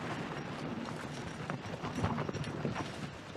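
A working horse in the Ozarks of Shannon County, its hooves clip-clopping steadily over a soft rumble of outdoor noise, fairly faint, with no talk.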